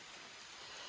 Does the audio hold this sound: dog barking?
no